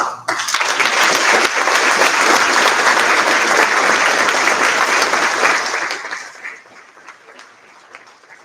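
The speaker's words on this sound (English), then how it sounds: "Give a round of applause." A round of applause at a Marine Corps Ball banquet, loud sustained clapping from a large crowd for about six seconds before fading quickly into quiet room tone.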